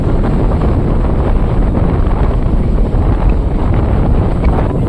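Strong wind buffets the microphone at the Batheshwar Mahadev fair with loud, continuous rumbling and roaring, steady throughout with no talk.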